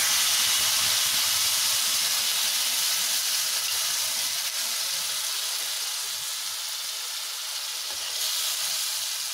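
Onion, tomato, ginger and garlic paste sizzles in hot oil with cumin and bay leaves, a loud, steady, broad hiss that persists throughout without talk.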